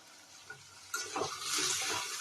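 Frozen peas, carrot, potato and bottle gourd frying and being stirred in a pan for khichuri, a soft steady sizzle with scraping stirs that grows fuller after the first second, faint and close.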